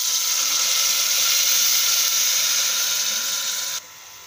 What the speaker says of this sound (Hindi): अब इसमें हम इसमें थोड़ा सा पानी डाल देंगे